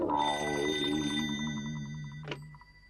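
A telephone rings with a steady electronic trill, loud and close, followed by a short click as it is picked up.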